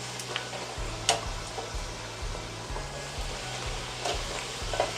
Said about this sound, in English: as soon as you put a cold tortilla in this small of a deep fryer